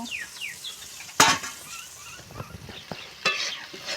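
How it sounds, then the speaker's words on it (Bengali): Spice paste for a river-fish curry frying in oil over a clay stove, a soft steady sizzle with scraping stirs and two sharper clatters of a spoon or lid against the pot. "আমি তুলে নিয়ে আমি ভালো করে মশলাটা কষিয়ে নেব"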